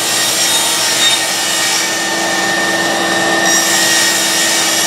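Hand saw cutting a wooden board at a 7-degree angle for a small padded stool, a loud, close, continuous rasping of steady strokes with no talk.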